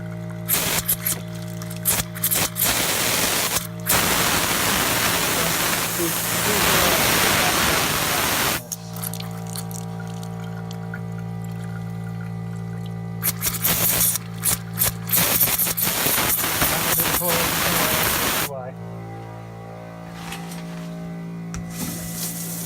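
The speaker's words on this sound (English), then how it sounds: "Letting it blow out. See a little rust coming out because we're really draining the system down" Water and air blowing out of lakehouse plumbing in the basement as the system is drained for winter, a loud, steady rushing hiss with a constant hum, cutting in and out in sputtering bursts.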